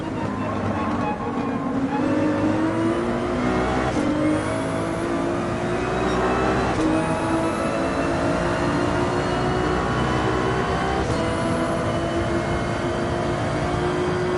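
Porsche 911 GT3 racing at Mount Panorama in Gran Turismo 7, a loud continuous engine howl that climbs in pitch through the gears with brief dips at shifts, steady and close throughout.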